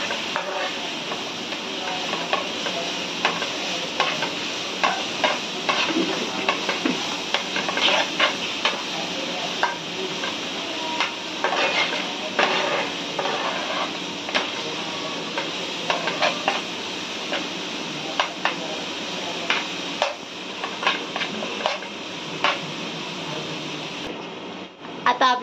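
Ginger, garlic and chili paste fries in a pan for an egg half-fry dish, a continuous hissing sizzle broken by frequent short stirring scrapes throughout, close and fairly loud.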